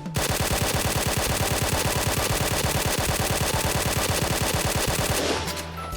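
The K2C EBR rifle in the shooting game Point Blank fires in one long sustained burst of rapid, evenly spaced loud shots for about five seconds before it stops.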